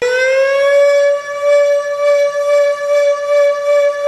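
A Siren Drone siren holds a loud, steady tone that rises briefly at the start and then stays level, with a slight pulsing wobble throughout.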